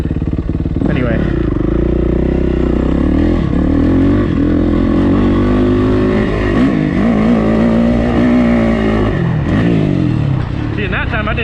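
Dirt bike engine roaring loud and close throughout a jump, with continuous revving that rises and falls in pitch as the throttle is worked, the engine dominating the whole stretch.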